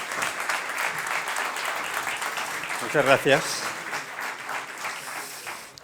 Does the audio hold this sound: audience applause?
yes